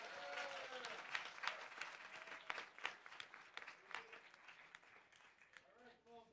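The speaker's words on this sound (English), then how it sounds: "Another round of applause for the panelists." An audience at a panel discussion applauds the panelists. The clapping is fairly faint and steady, with voices heard over it and speech returning near the end.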